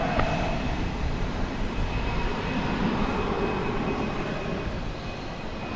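An American Airlines jet departing DFW Airport bound for San Antonio, Texas, its engines roaring steadily and loud throughout, a broad sustained rumble with no voices.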